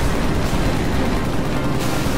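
A continuous loud, roaring blast of noise from a Halo 3 battle as an enemy is destroyed, sounding dense and sustained for about two seconds with no voices.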